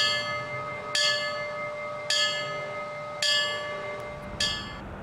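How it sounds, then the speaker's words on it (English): A fire bell tolls at a fire department's 9/11 memorial ceremony, struck four times at slow, even intervals, each clear ringing stroke decaying over a quiet outdoor background. "A fire bell tolled in memory of the firefighters who never made it home"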